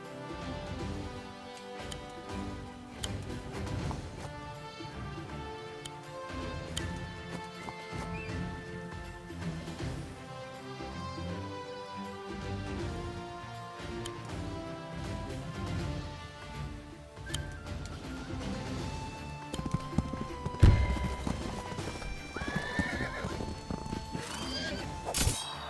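A horse unit in the strategy video game Wargroove neighs, with hoof clatter, mixed into busy, continuous game music throughout.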